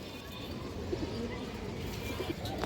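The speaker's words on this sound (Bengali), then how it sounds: "সুন্দর একটা মাদি কবুতর" A female Khora-gola pigeon gives faint, low coos, a few soft pulses rising from a quiet indoor background with no one speaking.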